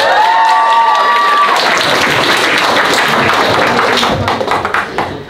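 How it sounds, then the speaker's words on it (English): Audience applause at a Chinese Mid-Autumn Moon Festival international dinner at Juniata College: a loud, sustained burst of clapping from a room full of people that fades off toward the end. "May I have a round of applause, please?"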